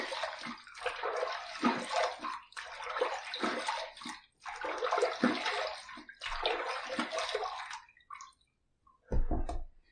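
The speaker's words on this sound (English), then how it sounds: "All right, let's rinse." A shaving brush is rinsed under running water in close, loud splashing bursts separated by short pauses, then a final gush after a brief silence.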